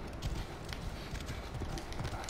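Horse hooves clip-clop at a steady trot in Assassin's Creed: The Curse of the Pharaohs, a continuous rhythmic stream of hoof thuds under game ambience.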